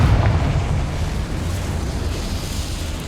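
A single heavy blasting-spell explosion from the Hogwarts Legacy video game, a deep booming rumble that starts loud and decays into a sustained low roar with hissy debris over a few seconds.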